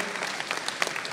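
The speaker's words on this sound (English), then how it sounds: "Give yourselves a round of applause, and everybody watching at home as well." A live stage show audience claps in a quick, dense burst of applause, many hands at once, steady and moderately loud with no talking on top.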